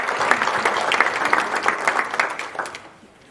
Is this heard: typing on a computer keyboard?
no